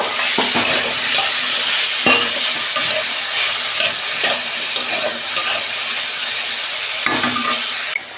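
Cabbage and other vegetables frying in a pan with a little salt, a loud continuous sizzle broken by repeated scraping stirs of the spatula, with no talking.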